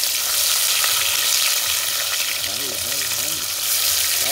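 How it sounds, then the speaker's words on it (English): Tomato goes into a pot already sizzling with natural seasoning for Jamaican salt mackerel rundown, a steady close frying hiss running throughout, with a voice talking over it partway through. "I'm gonna get in tomato in our pot."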